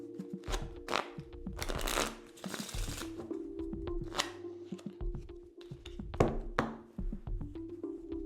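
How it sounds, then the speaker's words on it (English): Magician shuffling a deck of playing cards, with crisp riffles, taps and card slaps in irregular bursts, fairly close and without voices. "the magician shuffles a few times."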